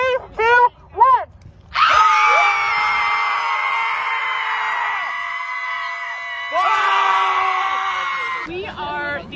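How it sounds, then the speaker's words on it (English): A group screams together at a Kansas City Scream Club gathering, one long shared scream held for several seconds, after brief chattering and whoops, then a second loud scream swell before voices return. "We are the Kansas City Scream Club, and we are here today to scream."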